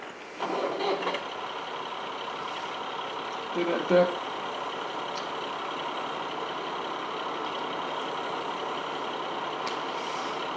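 Red tractor engine idling in Farming Simulator 22 with a plum attachment, a steady low hum running throughout and a brief bump of extra noise near the start, under a short spoken phrase.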